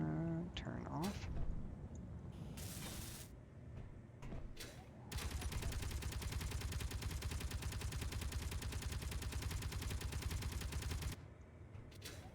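Rapid automatic gunfire in the Space Engineers video game, a dense sustained burst lasting several seconds after scattered game sounds and a brief earlier volley, loud and continuous before cutting off.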